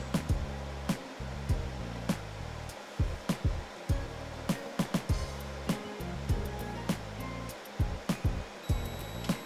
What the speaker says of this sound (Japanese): 今シーンとした時に扇風機の音がザーって言ってるん です けど